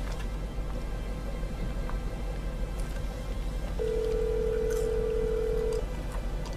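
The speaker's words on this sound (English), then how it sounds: "No one answers the phone." An unanswered telephone call gives one steady electronic ringing tone of about two seconds, heard on the line over a low, constant background hum.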